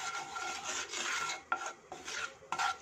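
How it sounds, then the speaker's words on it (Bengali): Asafoetida being stirred into hot ghee in a pan, heard as soft scraping strokes of a spoon against the metal with a light sizzle, several close, brisk passes and no voices. "হিংটা একটু নাড়িয়ে"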